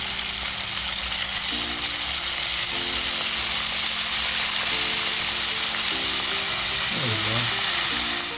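A batch of squid deep frying in palm oil at home in Valencia, Negros Oriental, a loud dense hiss of bubbling oil throughout with faint tonal hums and a brief low sliding sound near the end.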